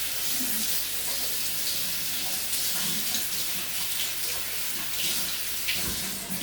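Water runs steadily into a cooking pot with oil and salt as Haitian plain rice is being prepared, a continuous hissing splash at moderate level with no talk.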